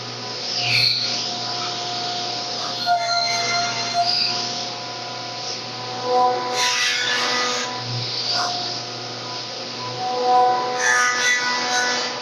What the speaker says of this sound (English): So now I'll run these on the jointer, give them a little shave